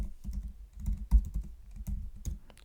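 Computer keyboard keys clatter in quick, uneven bursts while someone writes C++ code, close and moderately loud with brief pauses between runs of keystrokes.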